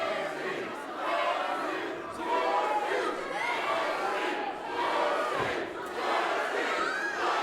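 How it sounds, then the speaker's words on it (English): A wrestling crowd at a Juggalo Championship Wrestling event yells and jeers at a wrestler, a loud mass of voices swelling in repeated waves, with chants and shouts rising together. "there's a number of unkind but apropos things being yelled at Kerry Morton now"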